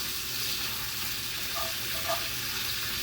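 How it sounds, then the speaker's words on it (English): Bacon frying in a pan gives a dense, steady sizzle with faint scraping as it is stirred, close and continuous throughout without any talking. "Check on it. Stir it up. Wish you could smell it. I love fried bacon."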